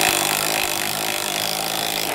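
A Bosch PDR 18Li cordless impact driver drives a screw with a steady, loud buzzing and rattling whine that runs without a break for about two seconds, close to the microphone.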